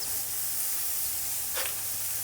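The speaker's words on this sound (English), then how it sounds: "Starting to hear some sizzle here." Hanger steak sizzling in a pan, a steady broad hiss holding throughout with a brief brighter burst of spatter partway through, close and alone with no talking.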